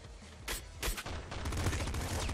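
A pop gun fires in the top-down shooter Nuclear Throne: a few sharp separate pops, then a dense steady rattle of rapid small shots, loud and close over game sounds.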